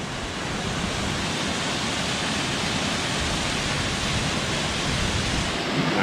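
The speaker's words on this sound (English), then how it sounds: "Got a spillway." Water pouring over a spillway in a waterway beside a golf course, a steady, dense roar that stays loud and unbroken throughout with no other sounds.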